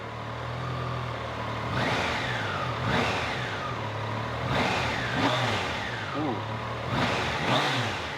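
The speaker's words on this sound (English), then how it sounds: "let me rev it up for you guys to hear it" Revs from a 2022 Triumph Tiger 660 Sport motorcycle engine, roughly six sharp throttle blips rising and falling over a steady idle, loud and close, with no talk over them.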